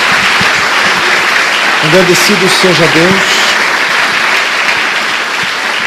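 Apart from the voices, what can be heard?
congregation applause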